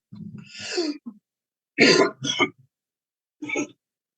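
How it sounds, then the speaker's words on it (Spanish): A few separate coughs and throat-clearing bursts, close to the microphone, spaced apart with silence between them. "Perdón de verdad por la tos"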